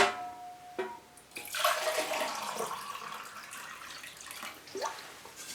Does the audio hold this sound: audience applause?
no